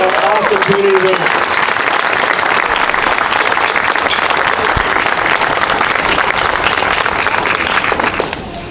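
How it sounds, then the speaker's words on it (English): Sustained crowd applause at an outdoor Flag Day celebration in Batavia honours the community band, steady dense clapping filling the whole stretch and tapering only at the very end. "Can we get a round of applause for our awesome community band?"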